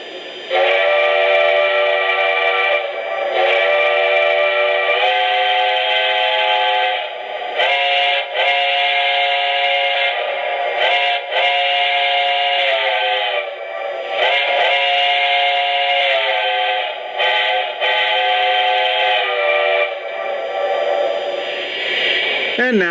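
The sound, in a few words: Lionel O-scale Heisler model locomotive steam whistle sound effect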